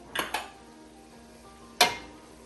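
A spoon scrapes and clinks against a pot of chili with ground hamburger, making two quick strokes close together, then a pause and one more sharp scrape, close and clear with no talking.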